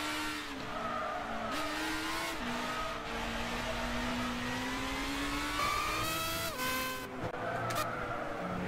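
Race car in Gran Turismo 6, overtaking in fog: a continuous engine whine rising and falling through gear changes, loud and close, with tire squeal and no talking.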